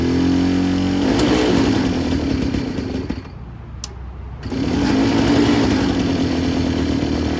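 An APC mini chopper engine starts with a choke on and runs at a loud, steady idle. A brief dip in the rumble passes before it settles back into a rough, continuous idle close by.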